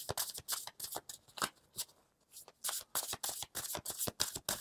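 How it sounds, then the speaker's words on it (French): Tarot cards being shuffled by hand, a rapid run of crisp riffling and flicking bursts with a brief pause midway, close and clear with no talk. "on va tirer 3 cartes pour voir"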